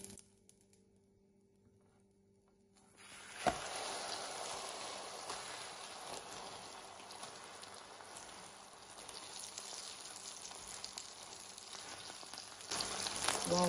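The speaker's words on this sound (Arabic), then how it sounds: "شكل الخبز محمر على الزيت" Flatbread fries in oil in a pan, giving a steady close sizzle and crackle that starts abruptly after a quiet moment and continues throughout without speech.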